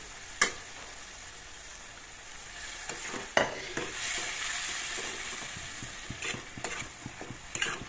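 A spoon scrapes and stirs boiled cabbage with fish curry in a pressure cooker, with soft sizzling underneath and a few sharper knocks against the pot, close and fairly quiet.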